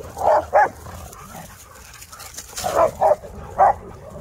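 Rottweilers just out of their kennels bark in short bursts: a pair of close barks, a pause, then three more, loud and near, with no talking.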